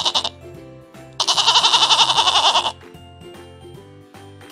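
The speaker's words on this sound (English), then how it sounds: "Can you bleat like a goat?" A goat bleating in a long, wavering, trembling cry over a light repeating backing beat, with a shorter bleat just before it.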